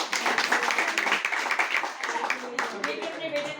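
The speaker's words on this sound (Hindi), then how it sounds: "एक जोरदार तालियां होनी चाहिए।" Hands clapping steadily throughout from an audience at a gathering where parents have brought their sons, dense and fairly loud, with a few sharper claps standing out and fading slightly toward the end.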